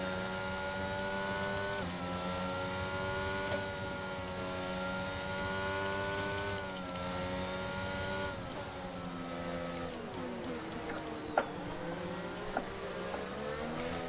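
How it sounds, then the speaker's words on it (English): Race car engine from a sim racing game on a Belgian circuit, droning steadily at sustained revs while warming its tyres, with shifting pitch and a few faint clicks near the end. "Right, I've done enough tyre warming now."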